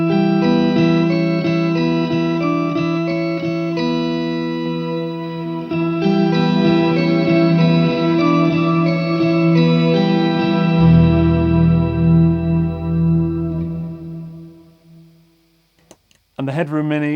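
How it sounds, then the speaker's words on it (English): Electric guitar played through a Pod amp modeler into a Headroom Mini reverb pedal, ringing sustained chords and notes with a spacious wash that fades out near the end before a brief clatter. "the Headroom Mini just adds the realism, adds the space for it to go in, which any reverb does"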